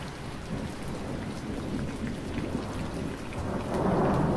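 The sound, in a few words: thunder rumbling and rain in a thunderstorm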